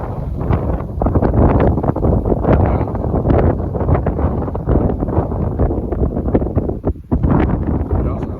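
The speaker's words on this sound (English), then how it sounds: "It is windier than heck outside." Strong wind buffets the microphone outdoors in rural Iowa on a trapping run, a loud, continuous roaring rumble with gusty bursts throughout, no other distinct sounds standing out.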